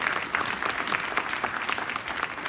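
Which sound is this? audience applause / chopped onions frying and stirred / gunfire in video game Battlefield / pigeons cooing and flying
audience applause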